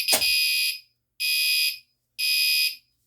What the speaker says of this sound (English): Just lift the cover and flip the switch back up, and the alarm will activate.